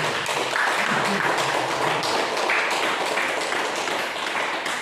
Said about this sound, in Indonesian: kita aplaus untuk Pak Garus